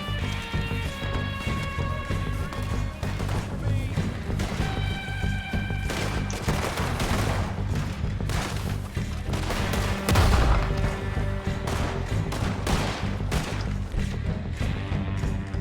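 Rifle gunfire in the video game Red Dead Redemption 2 during a shootout, with repeated sharp shots and crashing impacts over a steady game backdrop of tones and effects, loud and close.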